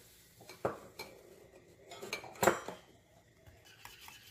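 A cup being scraped clean with a utensil while mixing keto pumpkin atole with whipping cream, a few sharp clinks and scrapes close by against quiet.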